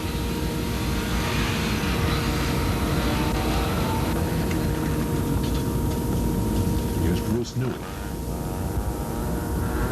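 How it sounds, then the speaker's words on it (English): Mazda rotary-engined race cars at a 1989 Pennsylvania forest rally stage, a loud continuous engine roar with a pass and pitch shift near the end, overlaid by a commentator speaking throughout. "Listen to the sound of the Mazda rotary engines reverberates through the Pennsylvania forests."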